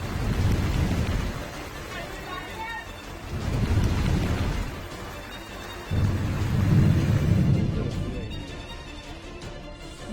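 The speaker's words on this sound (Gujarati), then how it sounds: "ધોધમાર વરસાદ પડવાનું પણ શરૂ થઈ ગયું છે" Heavy monsoon downpour in Gujarat with rolling thunder, a loud steady roar of rain broken by several deep rumbling swells throughout.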